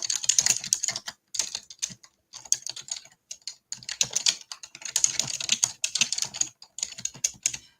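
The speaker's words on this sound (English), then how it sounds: "I can't type and talk at the same time" Rapid, uneven bursts of typing on a computer keyboard, the key clicks fairly close and steady with brief pauses between runs, no voices.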